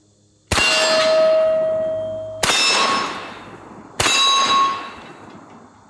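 A Jerry Miculek 940 Pro 12 gauge semi-automatic shotgun fires slugs in three sharp reports about one and a half seconds apart, each followed by a long metallic ringing decay.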